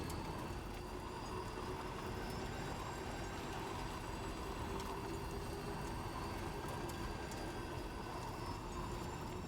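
A train rolls along a railway in the video game Death Stranding 2, a steady distant rumble with faint high squealing tones from the wheels, unbroken for the whole stretch.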